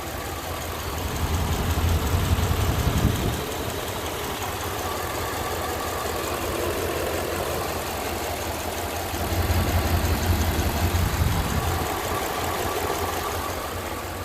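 A car engine idles steadily, a low continuous rumble that swells louder twice, as if briefly revved, with no voices.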